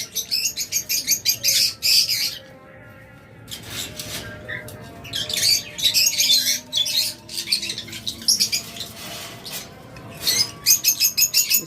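Lovebirds kept for wholesale sale, including egg-carrying pairs, chatter and squawk in dense bursts of sharp high chirps and calls, close and loud, with short quiet gaps between flurries.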